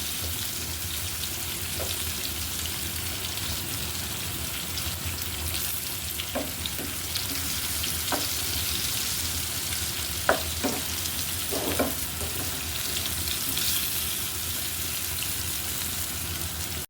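Pieces of elephant foot yam fry in a pan with a continuous, dense sizzle, punctuated by occasional clicks and scrapes of stirring, close and steady with no talking.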